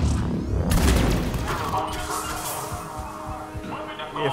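Grenade blasts in the video game Mass Effect 3, a heavy booming explosion followed by rumbling debris and scattered crashes amid gunfire, loud and close, with a voice talking over the combat.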